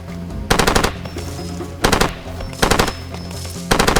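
Machine gun fire in the video game Far Cry 2 rattles out in four loud, rapid bursts of close shots, separated by short pauses filled with quieter background game sound.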